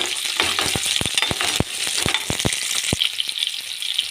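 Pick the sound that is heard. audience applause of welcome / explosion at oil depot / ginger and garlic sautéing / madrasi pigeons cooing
ginger and garlic sautéing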